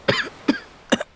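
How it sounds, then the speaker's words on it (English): A woman lets out a grating cough in a dramatized story scene, a few rough, separate hacking bursts spaced across a second, close and clear with no talk. "She let out a grating cough."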